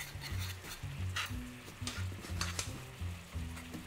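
Duck leg ballotines with olives and dried fruit simmer in a pan after a splash of white wine. A steady sizzle runs under repeated scraping and clinking stirs, with a low droning tone in the background.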